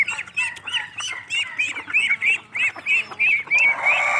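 Chickens kept in a cage cluck and squawk loudly and repeatedly, with overlapping calls in quick succession close by.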